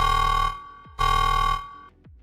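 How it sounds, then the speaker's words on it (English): A loud electronic buzzer alarm sounds twice in Supermarket Simulator, each harsh tone lasting about half a second with a short gap between, then a fainter falling tone. "Sound the fuckboy alarm"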